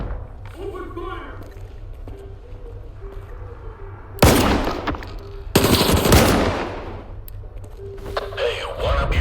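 Automatic gunfire in the S.T.A.L.K.E.R. 2: Heart of Chornobyl video game breaks out in two loud close bursts over a steady low hum, with game voices heard around them.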